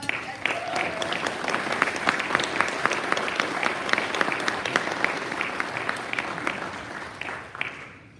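An audience at a Rotary club president installation applauds the outgoing club president, a steady, moderately distant round of clapping that holds for several seconds before tapering off at the end.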